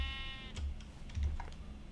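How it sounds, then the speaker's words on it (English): Sheep in the Minecraft-style game Forgecraft give a few short bleats, about three brief calls spaced across two seconds, with faint clicking of keys in between. "Sheep. Come here, sheep."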